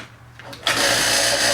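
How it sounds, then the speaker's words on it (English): A vacuum pump switched on for a Mars-pressure test: after a quiet moment it kicks in abruptly and runs with a steady, loud mechanical hum and buzz, close by and unchanging. "So let's plug in the vacuum pump."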